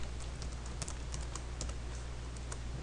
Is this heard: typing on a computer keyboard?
yes